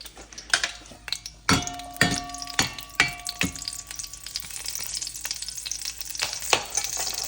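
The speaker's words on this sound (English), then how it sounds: "Oil. Let it get hot." Chili dropped into hot oil for a sardine curry fries and sizzles in a pan, with sharp pops and splatters breaking up a steady crackling hiss that builds and continues to the end, close and fairly loud with no talking.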